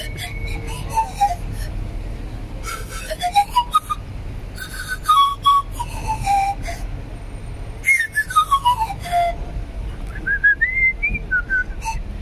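A person whistles a melody in a series of rising and falling phrases, clear and close, with short pauses between notes.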